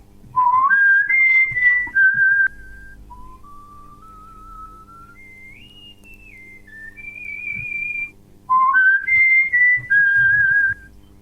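A person whistles a clear melodic tune, sliding between pitches with sustained notes and short trills, close and loud, with no speech.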